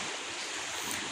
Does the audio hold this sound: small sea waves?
yes